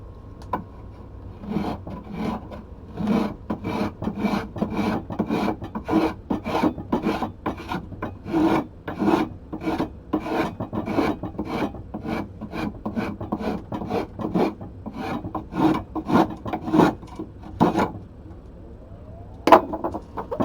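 A tool being sharpened in a woodworking shop, with rapid, evenly repeated rasping strokes, roughly one or two per second, close and loud with no talking, ending in one sharper stroke.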